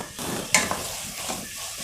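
Vegetables sauté in a pan with a steady close sizzle, broken by a couple of light clinks and stirring scrapes, with no one talking.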